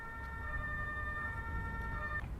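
An ambulance siren in the emergency-services game Emergency 2025 holds a steady, sustained electronic wail at moderate distance over a low rumbling background, cutting off near the end.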